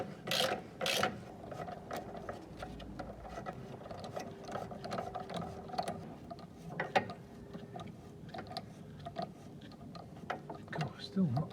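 A gear puller winds its thread to pull apart the clutch of a Thwaites dumper truck, giving steady ratcheting mechanical clicks and grinding that run under quiet background noise, with a few sharper knocks along the way.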